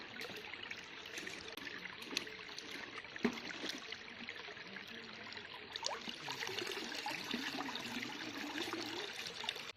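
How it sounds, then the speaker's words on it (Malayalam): Rice being washed by hand in a pot of water, a steady trickling and swishing of water with occasional splashes, fairly near and continuous, with no talking. "ഒന്നുകൂടി ഒന്ന് വൃത്തിയായിട്ട് കഴുകി എടുത്ത് കൊണ്ടുപോകാം"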